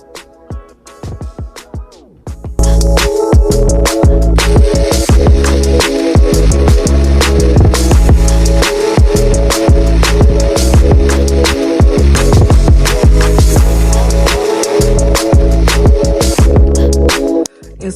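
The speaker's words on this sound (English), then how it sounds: "when you start to blend up your sea moss" Sea moss churned in a blender, a loud continuous whirring roar after a few brief pulses, running steadily for about fifteen seconds before cutting off.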